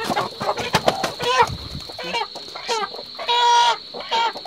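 Chickens on a household property cluck and squawk in repeated bursts, several calls overlapping close by, with one longer loud squawk near the end.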